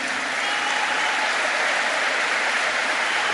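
Dense, sustained applause from a conference audience, a steady wash of many hands clapping at full strength throughout, with no voices standing out.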